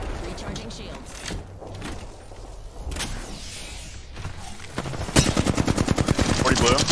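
Gunfire from a 30-30 Repeater in the Apex Legends shooter game: scattered sharp shots and distant bursts, then a dense rapid volley near the end, with players talking throughout.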